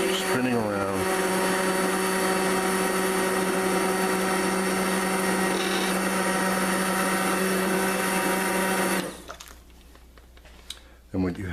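An immersion blender pureeing mushroom and onion bisque, a loud steady whirring motor with a churning liquid swirl running for about nine seconds, then cutting off to quieter handling noises.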